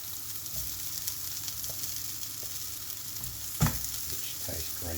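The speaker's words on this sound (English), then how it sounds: "A little bit of oil in it. I'll put the aubergine in." Aubergine frying in oil in a pan makes a continuous close sizzle, with occasional scraping stirs and one sharper knock partway through; no one speaks.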